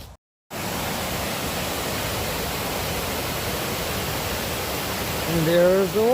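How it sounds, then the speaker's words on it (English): Steady broadband roar of icy waterfalls at the Cascades, close and continuous, with a brief dropout at the start and a faint whistling tone near the end. "And there's the waterfalls."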